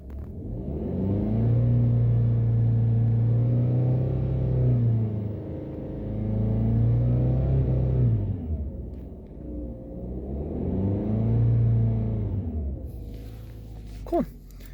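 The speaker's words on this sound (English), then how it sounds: "Just doing a quick video walkthrough of the engine revving" A 2020 Subaru Impreza engine revs loudly in two long sustained pushes, rising and holding then dropping back, with a brief lull between them and a faint click near the end.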